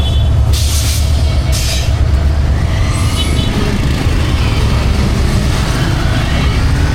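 A train running along a railway line, a loud steady rumble of wheels on track throughout, with brief hissing bursts early on.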